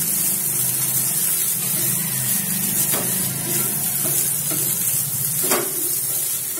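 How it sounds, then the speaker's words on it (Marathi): Soya chunks for a masala recipe being stirred and fried in a pan until golden brown: a steady loud sizzle with scraping stir strokes and a few sharper clicks, no talking. "याचे गोल्डन ब्राऊन होईपर्यंत आपल्याला हे सोया चंक्स व्यवस्थित परतून घ्यायचे"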